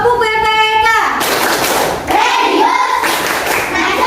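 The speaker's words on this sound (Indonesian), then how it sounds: "Biar lebih bersemangat, mari sama-sama tepuk PPK." A school class claps the Tepuk PPK clap chant: after a brief sung lead-in, a dense burst of rhythmic group clapping follows, with children's voices chanting along over the claps.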